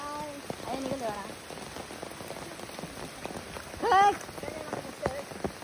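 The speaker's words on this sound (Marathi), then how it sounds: "पाऊस आला ना." Steady rain patters on surfaces throughout, with people talking over it close by and one brief louder voice cutting in midway.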